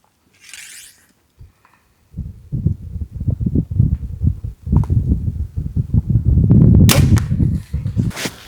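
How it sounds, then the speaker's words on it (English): Field point arrows fly downrange and strike a target at a turkey broadhead test, giving a run of sharp, close thumps and impacts in quick succession, mostly dry of voices. "we're gonna start by sending a couple field points downrange to act as our control group"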